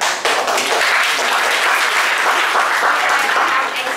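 An audience at a school speaking contest applauds. The clapping is dense, steady and sustained, and it fills the whole stretch without pause.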